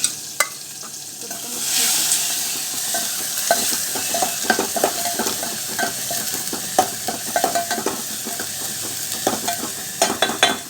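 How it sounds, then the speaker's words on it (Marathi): Curry leaves sizzling steadily in hot oil for tempering, with a spoon scraping and stirring in a pan, sharp clicks and crackles scattered across a continuous hiss. "कढीपत्ता तर फोडणी घालायची"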